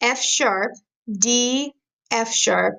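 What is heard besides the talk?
No everyday noises stand out.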